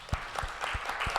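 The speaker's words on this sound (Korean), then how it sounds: "여러분 찬옥이 위해서 많이 도와주시고 기도해 주신 우리 학사인 친구들 박수." Brief congregation applause during a Sunday church service, a handful of separate claps, fairly close and moderately loud.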